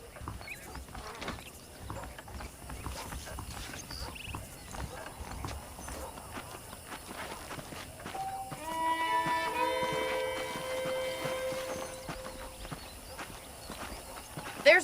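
Horse hooves clip-clop at a steady ride through the Red Dead Redemption game world, with ambient outdoor game sound and some tonal music layered in partway through, while a voice speaks over the hoofbeats.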